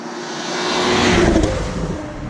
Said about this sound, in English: engine's exhaust really manages to mimic Porsche's own flat sixes at the top of the power band